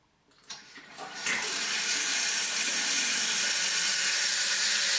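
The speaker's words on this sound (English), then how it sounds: "when the tap thaws we will get water coming back out of the tap" Water gushing from a newly thawed tap after a frozen pipe, starting with a brief splutter, then a loud, steady rushing flow that holds until it stops sharply at the end.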